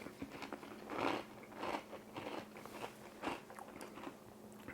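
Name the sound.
biting crispy Dutch kniepertjes cookie with cinnamon whipped cream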